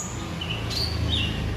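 A female renjak songbird in a cage at a bird-feed seller's shop gives a few short, thin high chirps over a steady low background hum, with no talking.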